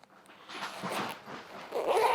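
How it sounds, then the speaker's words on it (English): A life jacket zipper is drawn in a few quick, scratchy pulls, close by and fairly quiet, with some rustling fabric around it. "Same thing with that zipper."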